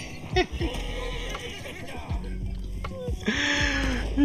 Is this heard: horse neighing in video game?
yes